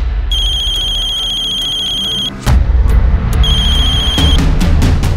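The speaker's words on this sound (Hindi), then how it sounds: "उसका हमारे पास फोन आया" A telephone rings loudly and close by in two long trilling bursts, a continuous electronic warble with a brief gap between them over a busy, noisy background.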